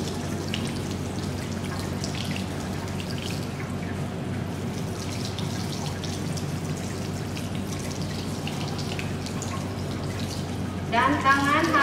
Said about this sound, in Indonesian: Setelah itu kita bilas tangan dari ujung jari sampai ujung siku.